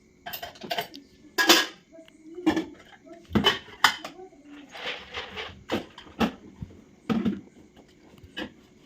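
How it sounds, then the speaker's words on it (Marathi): Pots and pans clang in a home kitchen while a dish is seasoned with masala, salt and turmeric: sharp metallic knocks and rattles come in irregular bursts, with soft bird chirps in the background. "कशी भांडी वाजवती"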